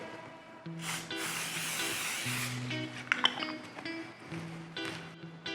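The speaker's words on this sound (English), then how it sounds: "once it's hot, I'm going to spray it down" Canola oil cooking spray hissing into a hot pan on medium heat, a close, bright spray burst in the middle over a faint background hum and light clinks.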